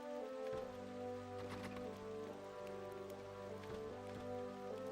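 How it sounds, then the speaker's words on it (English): Rain patters in Dragon Quest Builders, a faint, steady patter of falling drops mixed with soft, sustained tonal game music. "It's still raining, though."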